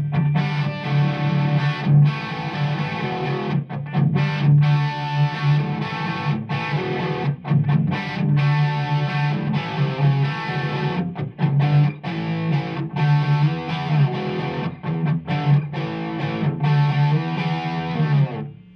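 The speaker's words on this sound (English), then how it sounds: "This is my Mesa Boogie Road King, and this is the Channel 3 kind of rock setting I use for most of my guitars" Hello Kitty Squier Stratocaster played through a Mesa Boogie Road King amp on its channel 3 rock setting, a continuous heavily distorted rock riff with chugging palm-muted rhythm and short gaps, loud and close throughout.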